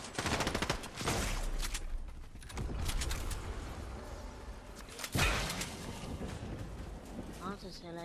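Bursts of rapid gunfire crackle in a battle royale shooter, loud clusters at the start and again midway, with quieter rattling in between and voices talking over parts of it.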